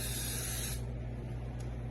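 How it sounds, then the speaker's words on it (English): Cooking oil spray hisses into a bread pan in a single steady burst of about three-quarters of a second, close to the mic, then stops and leaves a quiet hum of the room. "Just spray a little oil in there."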